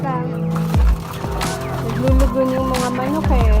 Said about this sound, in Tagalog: Naglulugon yung mga manok eh.